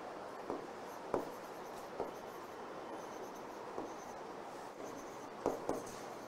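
Marker or chalk writing on a classroom board during an English grammar lesson, soft scratchy strokes with periodic sharper taps, fairly close and steady, without speech during the writing.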